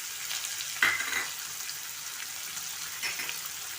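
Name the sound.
onion and tomato frying on a tawa for tawa pulao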